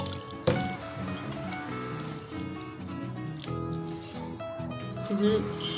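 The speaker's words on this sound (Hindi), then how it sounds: "थोड़ा पानी डाल देंगे और इसको थोड़ा थोड़ा सा धो लेंगे।" Water poured from a tap or jug over freshly strained paneer in a sieve, rinsing off vinegar, with a steady splashing trickle and spatter running throughout at close range under kitchen clatter.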